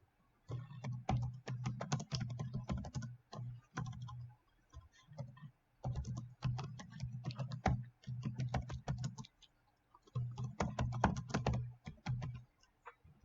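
Typing on a computer keyboard while setting up an online meeting link, bursts of rapid clicky keystrokes with short pauses between, steady and close.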